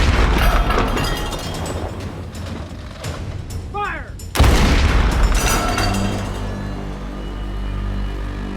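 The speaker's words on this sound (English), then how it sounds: "Using their 2 deck guns, they announce their presence by sinking 2 luggers, small vessels used in coastal waters." Deck guns on a World War II submarine fire at night to sink two small coastal luggers, a loud heavy boom cutting through rumbling engine and sea noise, followed by a long fading roar.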